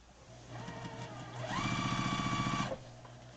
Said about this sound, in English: You're going to sew that piece and that piece together.